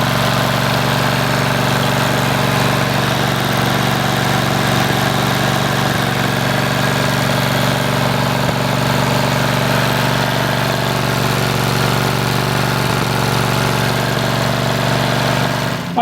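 A Cub Cadet RZT50 riding mower engine, just fitted with a replacement gasket, idles steadily and loudly at close range, a constant even drone with no change over the whole stretch.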